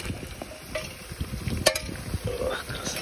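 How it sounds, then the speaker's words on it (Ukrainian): Onion frying and being stirred in a kazan for plov, with browned meat already in the pot: a busy crackling sizzle with clinks and scrapes of stirring, close and steady, with a sharp clatter partway through. "Цибулька йде в казан."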